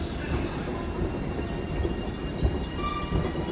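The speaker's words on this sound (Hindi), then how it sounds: "ये तो चली गई ट्रेन, तो निकल गई अपनी ट्रेन" At an Indian railway platform, a departing train rolls past with a steady rumbling roar and faint rail clatter, close and continuous.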